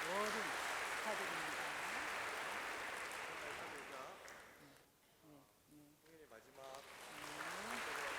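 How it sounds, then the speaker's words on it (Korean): Applause from army trainees at a Buddhist precept ceremony at a training camp fills the room as a steady wash of clapping. It dips midway while people talk, then swells again. "큰 박수 부탁드립니다."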